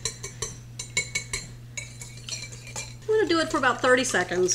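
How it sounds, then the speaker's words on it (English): A whisk beats two eggs in a bowl, with quick, rhythmic metal clinks against the bowl, then a person speaks over the continued stirring. "We're going to take a whisk and we're going to beat those two eggs up until they're nice and frothy."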